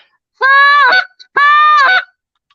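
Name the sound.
imitated goose call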